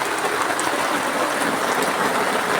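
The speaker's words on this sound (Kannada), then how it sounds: "ಜೋರು ಮಳೆ ಬರ್ತಾ ಉಂಟು" Heavy downpour falling outside a house, a dense continuous hiss of rain that stays loud and even throughout, with no talking.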